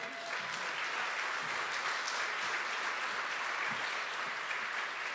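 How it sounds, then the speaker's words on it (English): An audience at an awards celebration breaks into sustained applause, a dense, even wash of clapping from a large crowd that holds steady throughout with no voices. "let's just give a round of applause to the smart guy in the room"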